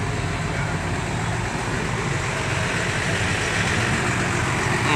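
A parked intercity bus idles steadily with a low, smooth engine rumble and broad hiss, continuous and fairly close, with no speech over it.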